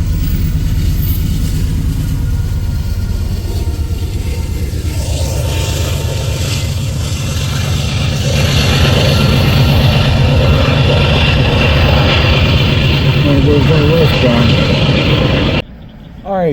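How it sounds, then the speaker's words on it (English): Rear DPU locomotive at the tail of a freight train rolls past after the engineer opened up the throttle, a loud steady engine roar and rumble that holds throughout before cutting off abruptly near the end. "And then here comes our rear DPU."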